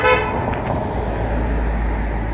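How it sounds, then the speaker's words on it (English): A car horn toots sharply in a small Minnesota town, a brief loud honk at the very start that gives way to steady outdoor wind and traffic rumble. "Now some idiot was honking at me."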